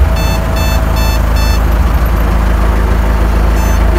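A truck-mounted machine runs with a steady engine rumble while reversing beeps chirp in short bursts through the first half, fading as the engine drone continues alone.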